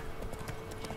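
Hooves clip-clop in a quick, steady rhythm as a horse trots in the video game The Witcher, close and clear for about a second, with no talk.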